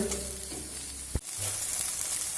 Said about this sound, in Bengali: এবার সয়াবিনটা একটু দু মিনিট মতো ভেজে নেব